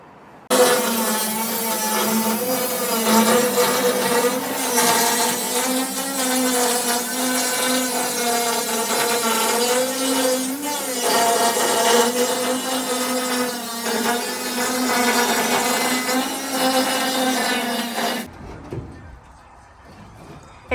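A power tool cuts a large hole through the thin steel roof of a narrowboat, a loud, steady grinding roar that runs almost unbroken for about eighteen seconds before cutting off abruptly.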